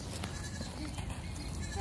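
A goat bleats at an animal park during feeding time, a close, fairly faint call over steady outdoor background noise, with no talk during the sound.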